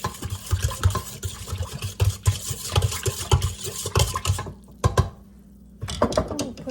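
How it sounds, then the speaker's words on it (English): A Danish dough whisk mixes sugar into sourdough sandwich bread dough in a bowl. The strokes are quick, rhythmic and scraping, with a short pause partway through before the mixing starts again. "I'm gonna take my Danish dough whisk, and I'm going to mix that all up."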